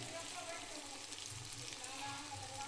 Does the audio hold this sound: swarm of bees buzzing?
no